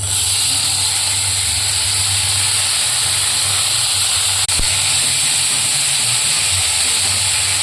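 Cabbage added to a hot pan with paste, a loud steady sizzle and hiss that holds for the whole stretch, with one brief clunk partway through and no talking.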